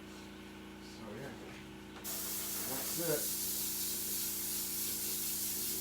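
An airbrush switches on and sprays acrylic paint with a constant close hiss, following brief soft talk.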